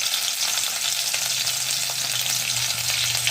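Green chillies fry in hot oil in a pan for seasoned leftover rice, giving a steady close sizzle with faint stirring scrapes throughout.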